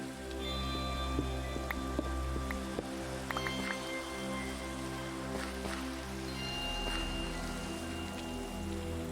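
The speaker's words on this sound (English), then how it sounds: "It's raining again." Steady video game rain patters across a surface in Minecraft with scattered drops and a low thunder rumble underneath, continuous and fairly soft throughout.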